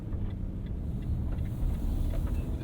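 A 2022 Nissan Frontier SV pickup truck on a test drive, heard from inside as a steady low road and engine rumble with faint tire noise, continuous and without voices.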